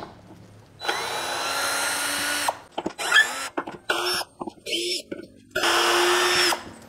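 An Ingco CDLI20021 cordless drill whirs in several bursts, long steady runs broken by short stuttering pulses as light screws are driven, close and loud.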